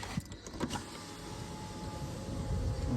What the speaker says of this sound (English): Let's open the window.